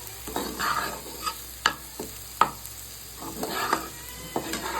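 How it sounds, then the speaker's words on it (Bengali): Small new potatoes frying to light brown in a pan, a steady sizzle broken by repeated scraping stirs and sharp clacks of a utensil against the pan, close by. "ছোট আলুর ভাজাটা প্রায় আমার হয়ে গেছে, এটা হালকা বাদামি হয়েছে কালার।"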